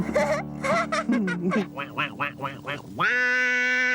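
A duck in a children's puppet show quacks a sing-song string of nasal calls, ending on a long drawn-out quack, close and loud and alone, likely voiced by a performer imitating the bird.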